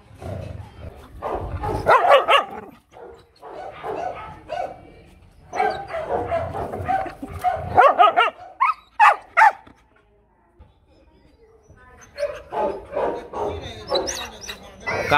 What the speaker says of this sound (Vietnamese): Ở đây mà sủa thì làm cái gì?